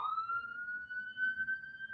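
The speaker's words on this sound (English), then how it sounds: "There goes sirens." A single wailing fire department siren, distant and steady, holding one rising tone throughout with faint background noise and no talking.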